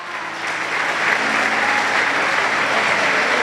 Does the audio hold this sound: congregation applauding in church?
yes